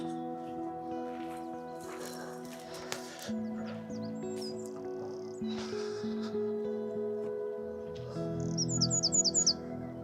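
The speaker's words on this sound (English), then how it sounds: "Bird just singing in the background, lovely." Songbird chirping along a calm river walk near Bidford upon Avon, with short bright twittering phrases rising toward the end over a steady droning background.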